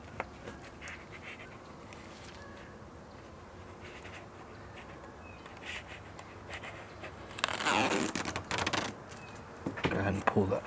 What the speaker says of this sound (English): So we'll go ahead and peel half of it away.